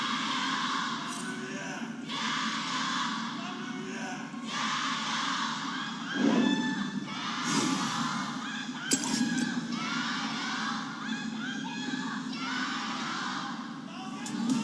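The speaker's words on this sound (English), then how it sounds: "The crowd got excited. Now they're just chanting to a sepia'd screen." An esports arena crowd at an LPL match cheers and chants in waves, loud and sustained across the whole stretch, with occasional sharper shouts rising above the steady roar.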